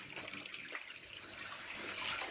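Water rushes steadily from a radiator drain into a container, a constant close hiss and splash with no pauses and no voices.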